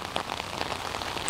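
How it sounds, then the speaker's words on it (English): Steady pouring rain patters on a surface outdoors along a street, a dense, even hiss of drops that fills the whole stretch without any voices. "They walked to go mail something in the mailbox, which is like 2 blocks down in the pouring rain"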